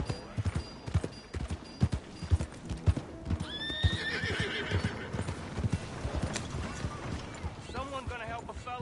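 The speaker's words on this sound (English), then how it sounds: "Well, I know horses." Horse hooves clip-clop steadily in Red Dead Redemption 2, a Western video game, with a loud whinny midway and more neighing near the end, all under a busy town ambience with background chatter.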